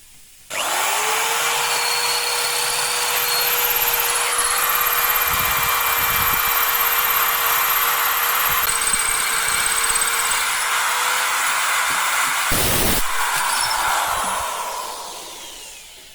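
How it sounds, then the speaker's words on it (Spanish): Power drill with a steel-rated bit boring a hole in alabaster stone, a loud steady whine running about fourteen seconds with brief grinding bursts before winding down. "El agujero, al ser alabastro, lo estoy haciendo con una broca que es de las que se usan para acero."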